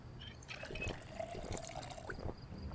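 A character drinks water in the zombie survival game Project Zomboid, a quiet liquid trickle and gulping splash that runs for a couple of seconds.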